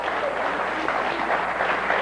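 Applause greets Lou Albano, the wrestling manager known as the captain, in a television talk-show studio: a steady, dense wash of clapping from a studio audience, held at an even level for its whole length.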